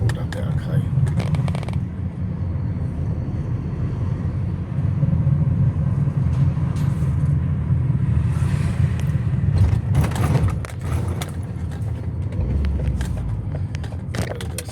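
A Ford Transit van with an engine warning light and low power pulls up a steep hill in third gear, its engine droning steadily and loudly from inside the cab, with a rattle and a few brief knocks over the hum.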